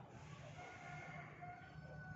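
Chickens cluck and a rooster crows somewhere in the distance, faint and steady for a couple of seconds.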